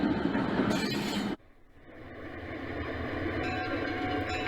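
A model train departs Mechanicville on a layout behind a U33C, an F7B and a Boston and Maine GP18 locomotive, with a steady close rolling rumble that briefly cuts out, then resumes and holds.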